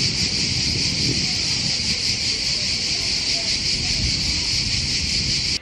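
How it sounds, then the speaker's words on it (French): A dense, loud chorus of cicadas shrills continuously across a large park in Bologna on a hot day, a steady unbroken buzz with faint rustling and low background rumble beneath. "c'était le bruit des cigales dans cette parc"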